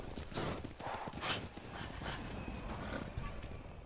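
Horse hooves clip-clop in the Ghost of Tsushima video game, a quick irregular trot of soft thuds under faint game ambience, with no voices.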